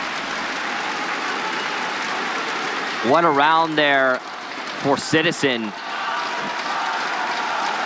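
Roaring crowd noise at a Rainbow Six Siege Pro League Season 10 finals match between DarkZero and NaVi, a steady wash of cheering and applause under a commentator's excited voice.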